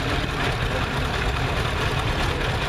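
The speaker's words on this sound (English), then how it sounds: "Another little John Deere. Wow, this one's an H2, a 1939 model." A 1939 John Deere H2 tractor idles at a parade, its low steady engine chug running continuously with outdoor crowd noise around it, no clear talk over it.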